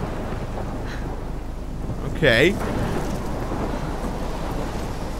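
Thunderstorm in the Life is Strange video game, a steady wash of rain and wind with low rumbling throughout, while someone briefly speaks partway through.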